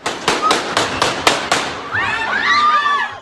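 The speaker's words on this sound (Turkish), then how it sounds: "Ortalık silah sesleriyle inledi." Six sharp gunshots crack in a rapid, fairly even sequence at a wedding hall, followed by high-pitched screaming and shouting voices.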